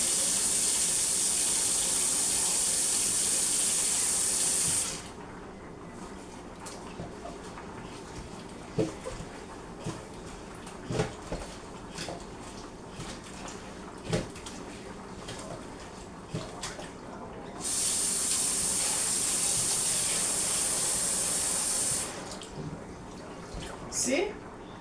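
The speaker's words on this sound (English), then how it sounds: "I'm going to get some water and this and wash it out." Water runs from a kitchen tap in two loud, steady gushes at the start and again later, rinsing out a container between fruit-juice blending, with splashes and handling noises in between.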